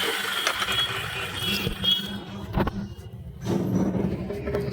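A handheld cutting machine runs at close range on pillar tile pieces, its motor whining and grinding in loud bursts that drop away briefly around the middle and then return.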